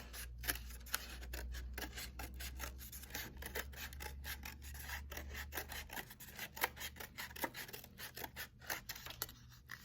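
Scissors snip through paper cutting a circle for a snowman craft, a quick irregular series of close, crisp cuts and rustles, quiet overall with no talking.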